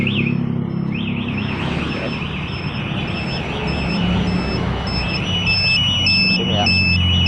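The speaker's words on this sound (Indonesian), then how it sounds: "alarm yang di motor ini akan teriak" The anti-theft alarm on a Honda Beat Deluxe smart-key motorcycle wails loudly and continuously with a warbling siren, heard close up over steady background noise as a voice talks underneath.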